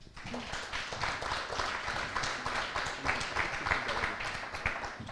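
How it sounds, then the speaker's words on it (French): An audience at an eloquence debate semifinal in Le Mans applauds a speaker, a steady, fairly faint wash of many hands clapping in a hall, continuous throughout. "On peut applaudir Corentin."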